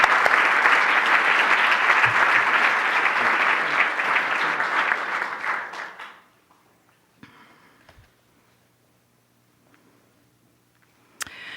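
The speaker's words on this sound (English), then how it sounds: "So how about a round of applause for Aaron Ravo Lynch?" A lecture hall audience applauds after a speaker introduces a youth sports lecture guest, dense steady clapping lasting about six seconds before fading into near silence, with a few faint rustles and a sharp knock at the end.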